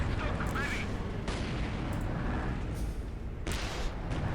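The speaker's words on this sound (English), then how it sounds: "More indirect fire coming in." Indirect artillery fire in the Company of Heroes video game: booming shell impacts and scattered bursts over a dense, rumbling battle background, with a commentator's voice partly audible.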